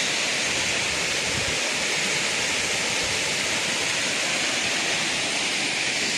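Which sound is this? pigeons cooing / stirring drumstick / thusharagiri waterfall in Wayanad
thusharagiri waterfall in Wayanad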